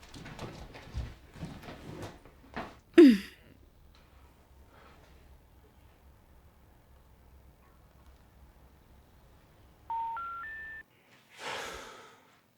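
A short run of rising electronic beeps, like phone keypad tones, sounds in a quiet room after some rustling and a brief noise.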